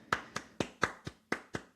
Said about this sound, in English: I'll just give y'all a little clap right now